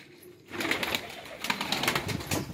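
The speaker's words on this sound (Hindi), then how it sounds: "ये कबूतर आ गया है" Pigeons coo in a repeating rhythm close by, with soft wing flutters among the calls after a quiet start, as the birds fly around their loft.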